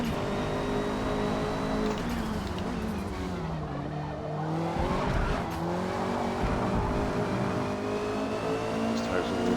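The Honda #73 Civic race car in Forza Motorsport at Road America roars steadily through corners, with engine pitch rising and falling between shifts and brief tire squeal. A voice talks over the continuous engine.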